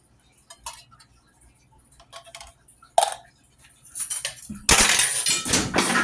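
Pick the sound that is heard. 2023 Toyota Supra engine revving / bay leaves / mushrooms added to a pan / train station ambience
mushrooms added to a pan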